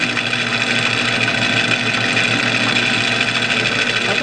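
Aluminum stock being turned on a metal lathe, taking a deep 50-thou cut at about 420 RPM: a steady, loud machining drone with a constant motor hum, continuous and even throughout, no voices.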